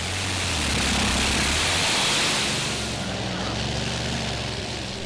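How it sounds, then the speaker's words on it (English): Allison V12 aircraft engine of about 2000 horsepower powering a modified pulling tractor at a 2008 European tractor pulling event, a loud, steady, dense roar throughout with broad noisy texture and low drone. "It's an Allison V12,"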